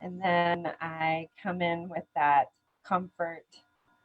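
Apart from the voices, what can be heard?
No distinct noise like a dog, phone or traffic.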